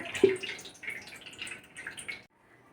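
Water is poured and splashes softly over flattened rice (poha) in a bowl, a faint series of light drips and trickles that fades out near the end.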